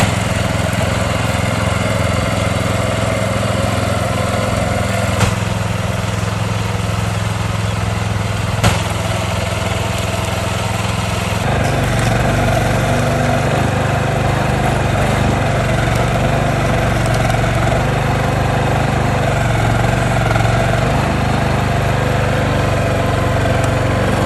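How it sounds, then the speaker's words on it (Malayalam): A small farm mini excavator's engine runs steadily at close range, a loud, continuous mid-low drone that deepens and thickens partway through, with no talk over it. "ഇത് നമ്മളെ കർഷകർക്ക് വേണ്ടിയിട്ടുണ്ടാക്കിയ ഒരു കുഞ്ഞൻ എക്സ്കവേറ്ററാണ്"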